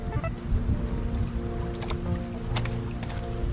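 Steady rain falls in a night city scene of World of Goo 2, a dense even wash of drops with a low background hum and a few brighter splashes.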